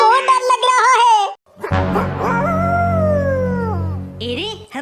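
A cartoon wolf lets out a long, loud, wavering howl that rises and then slides down, following excited cartoon character speech and ending as another voice cuts in.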